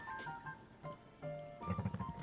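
Horse in Zelda: Tears of the Kingdom, with hooves clip-clopping and a tonal whinny over game music, fairly quiet and close, with no talk over it.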